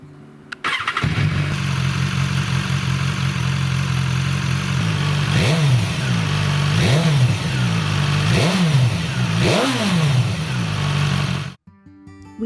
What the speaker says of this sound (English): The sound of the standard exhaust.